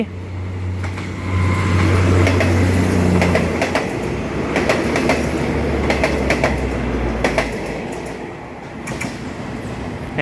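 A diesel railcar rushes past the Ranong 1 Road railroad crossing, loud and close, with a low rumble and rapid wheel clatter over the rails that gradually eases off, no talk.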